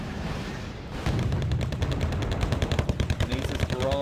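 Artillery in the Wargame: Red Dragon video game fires a barrage, a dense rapid string of booms and cracks that starts after a short lull and continues rhythmically and loud to the end.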